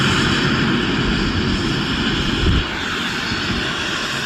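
State trooper helicopter flying nearby, a continuous loud rotor and engine roar that dips slightly partway through, with no speech.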